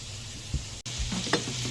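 Breakfast food with finely chopped onions sizzles in a frying pan, a continuous crackle broken by a few soft scrapes and bumps as the food is moved and flipped.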